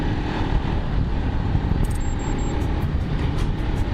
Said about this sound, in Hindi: स्पीड को थोड़ा बढ़ाते हैं।